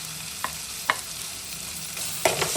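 Fish iguru with salt, turmeric and chili stirred in a frying pan: a few scattered spoon scrapes over a low, steady sizzle, close and fairly quiet.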